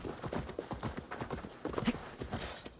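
Horse hooves in Assassin's Creed Valhalla clip-clop at a quick, regular trot, each hoofbeat distinct and fairly close, with no other sounds competing.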